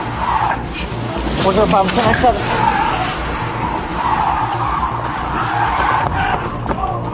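A fleeing suspect's car speeds away with tires skidding and squealing, a loud continuous roar of engine and rubber on pavement heard close, while a voice speaks over the radio throughout.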